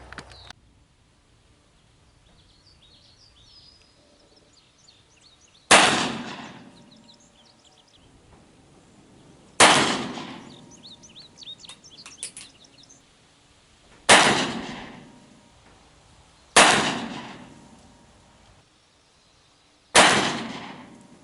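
A Colt .45 pistol fires at an outdoor range toward paper targets. Five sharp, loud shots come at irregular intervals of a few seconds, each followed by a short echoing tail, with faint bird chirps in the quiet gaps.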